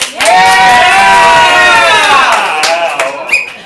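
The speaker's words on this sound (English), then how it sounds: "If you reject Bill's apology, applaud now." A comedy improv crowd responds loudly to the call to reject a performer's apology, with a burst of cheering and shouting voices over some clapping, swelling quickly and tapering off.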